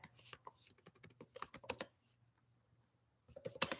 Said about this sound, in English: So I'm gonna type the name in, look up Polymath